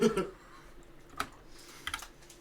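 Typing on a computer keyboard during a livestreamed Bible study, a run of soft close clicks and taps with a few louder keystrokes, with faint talk at the start.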